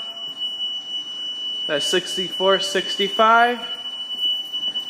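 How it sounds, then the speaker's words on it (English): A steady, high-pitched warning buzzer on a fire department rig drones throughout, while someone speaks briefly over it. "I'm going a little fast so I can get that buzzer off."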